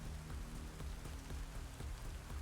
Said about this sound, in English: Hey, it's raining.